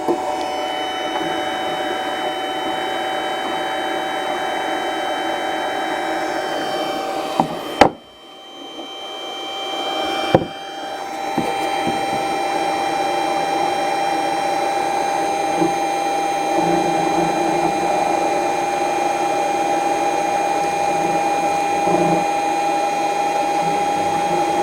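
A Geeetech MeCreator2 3D printer drives its Z axis, giving a steady close mechanical whir and hum with several faint tonal lines, briefly cut off and resumed with a couple of sharp clicks partway through.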